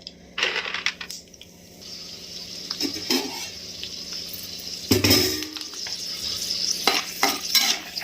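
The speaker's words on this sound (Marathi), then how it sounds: "मी इथं थोडंसं तेल टाकून घेते आपण पोह्याला तळून घेतो तसंच थोडंफार शेंगदाणे तळून घ्यायच्यात" Peanuts fry in a little oil in a pan, a steady close sizzle broken by a few louder stirring scrapes and rattles, with no voices.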